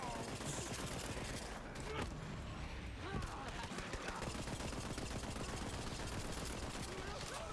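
Rapid automatic gunfire in the Borderlands 3 shooter, dense bursts of shots crackling continuously amid combat noise, loud and busy throughout with brief gaps.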